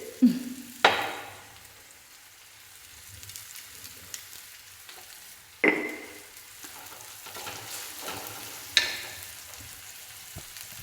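Onion fries in a pan with a pinch of salt, a soft continuous sizzle broken by a few sharp scrapes and clacks of a spoon stirring against the pan.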